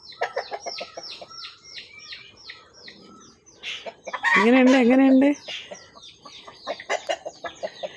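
Chickens cluck nearby in short repeated bursts, with a rooster's loud crow breaking in midway before the clucking resumes; a voice speaks briefly.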